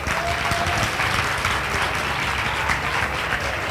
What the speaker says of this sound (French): est-ce qu'on peut applaudir pour les membres du jury qui ont fait un grand travail?